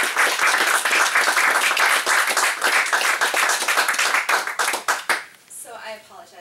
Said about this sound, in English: two people in the crowd who deserve a big round of applause